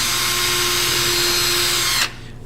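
A power drill boring holes for a wooden memo holder in a school shop class: a steady, loud whine that runs continuously for about two seconds and then cuts off, leaving quieter room noise.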